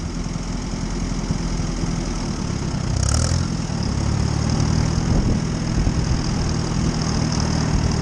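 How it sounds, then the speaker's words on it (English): An Allis Chalmers WD45 tractor engine runs steadily in third gear with a deep, rumbling drone that swells slightly partway through, with no talking. "The engine sounds really strong."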